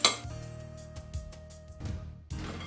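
Moong sprout salad being tossed in a bowl, with repeated clinks and scrapes of a utensil against the dish at close range. A brief pause comes near the end, then the mixing resumes.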